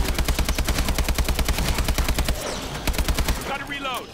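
Rapid automatic gunfire rattles in a zombies video game, bursts of loud shots in a fast, even rhythm that break off briefly and then resume, with game sound effects sweeping at the end.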